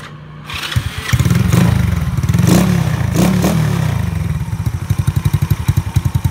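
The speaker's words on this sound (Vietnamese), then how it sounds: "Bây giờ anh sẽ nổ máy cho cưng nghe nha em trai." An Elegant 54zz motorcycle engine, freshly fitted with new bearings, cranks and starts, then runs at a loud close idle with a revving swell before settling into a rapid, even putter.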